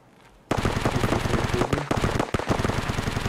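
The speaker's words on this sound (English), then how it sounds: "I have gunshots up there right now." Rapid automatic gunfire in the shooter game Escape From Tarkov, bursting in abruptly after a quiet moment and continuing as dense, loud, overlapping shots.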